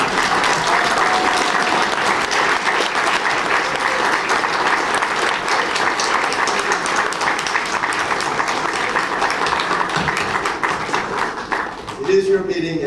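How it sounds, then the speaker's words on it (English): A banquet audience at the 21st NAM gathering in 2009 breaks into sustained, dense applause, loud and unbroken for most of its length before thinning out at the end. "give a round of applause to the audience"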